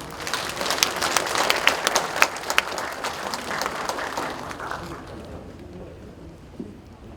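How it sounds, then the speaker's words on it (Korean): A crowd applauds steadily at a rally in an arts hall in Gurye, South Korea, with sharp, dense clapping that thins out and fades toward the end, leaving a quiet room tone. "여러분 큰 박수로 맞이해 주시기 바랍니다"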